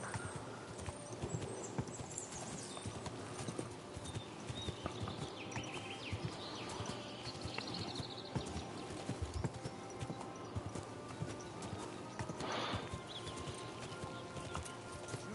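Pebbles the horse in Kingdom Come Deliverance 2 trots on and on with steady clip-clopping hooves over a busy game soundscape, with a brief whinny partway through.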